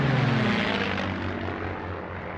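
Propeller aircraft engine drone, matching a Lockheed P-38 twin-engine single-seat fighter, a steady throbbing roar heard alone that fades slightly over a short stretch.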